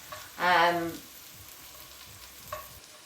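Welsh Glamorgan sausages fry in a pan over medium heat, giving a soft, steady sizzle. A brief louder swell near the start suggests the sausages being turned, and a small clink follows later.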